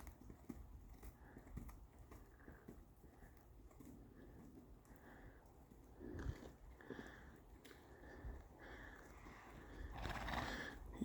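A horse being shod by a farrier whinnies and snorts, soft breathy snorts and sniffs with shuffling hooves, rising into a louder whinny toward the end, fairly quiet overall.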